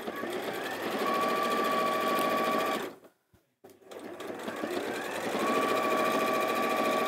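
An Elna 780+ sewing machine stitching a cushion cover, its rapid, steady mechanical whirring running loud and close, pausing briefly midway into near silence with a click, then resuming at the same even pace.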